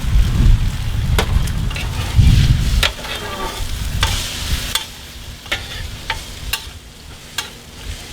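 Chorizo and eggs frying together in a pan for a breakfast burrito: loud crackling sizzle with scraping stirs and sharp utensil clicks, close and continuous, no talking.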